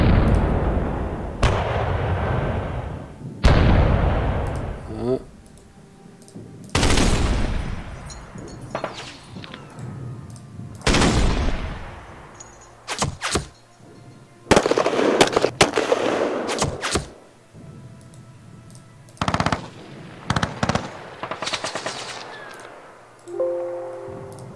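Artillery shelling and gunfire in the Panzer Campaigns Scheldt '44 wargame, a long series of loud booming blasts and cracking shots separated by short pauses, with no speech.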